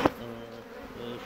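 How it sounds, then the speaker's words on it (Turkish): A bee buzzes close by near a honeycomb, a low steady drone lasting about a second after a brief knock. "Yiyecek lan bizi bu arı."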